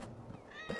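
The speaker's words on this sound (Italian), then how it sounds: "Ah, questo era un gatto. Ciao gattone." A cat in the video game Assassin's Creed Valhalla gives a single faint, short meow over a low background drone.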